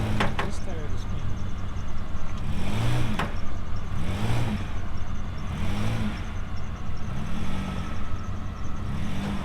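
Stuck Toyota with a tire spinning while the engine revs in repeated surges, several rising and falling pulls over a steady idle, with a voice speaking over it.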